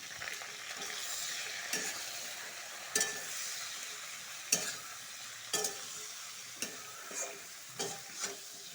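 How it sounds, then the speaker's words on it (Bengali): Frying food being stirred in a pan after salt and turmeric go in, with soft steady sizzling and about a dozen distinct scraping strokes of the spoon at irregular intervals, close and fairly quiet. "পরিমাণ মতো নুন দিয়ে দিব আর হলুদ দিব হলুদ দিব ভালো করে আচারা করবো"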